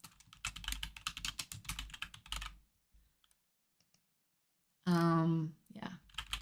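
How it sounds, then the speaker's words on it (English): Rapid keyboard typing clatters for a few seconds, then stops into near silence before a person briefly speaks. "I'm just typing free form."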